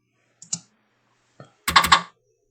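A handful of clicks on a computer keyboard: two isolated taps, then a quick cluster of louder keystrokes close together, with no speech.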